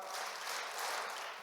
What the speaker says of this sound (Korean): 박수 3번 시작